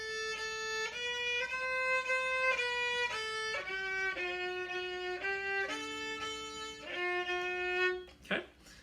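A single cello plays the Ode to Joy melody in a beginner lesson setting, with sustained bowed notes moving stepwise one after another and a short, sharp noise right at the end.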